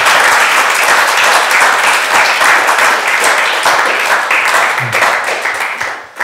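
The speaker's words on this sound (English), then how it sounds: "let's give him a round of applause" Audience applause after a lecture in a church, loud sustained clapping from a crowd that holds steady for several seconds and then tapers off near the end.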